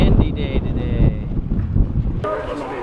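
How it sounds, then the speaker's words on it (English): Gusty wind buffeting the microphone in loud rumbling waves near Tombstone, Arizona, with a voice faintly underneath. "It's a windy day today."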